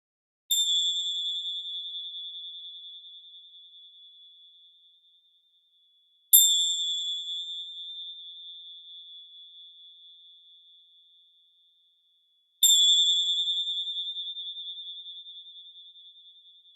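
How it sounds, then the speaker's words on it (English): Three clear, bright chimes rung at the close of a yoga session, each struck about six seconds apart and left to ring out and fade slowly, with no talking. "I'm going to play 3 chimes, so don't jump, just to clear the energy."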